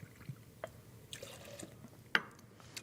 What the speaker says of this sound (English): we're going to do a healthy 2-ounce pour of that into a mixing glass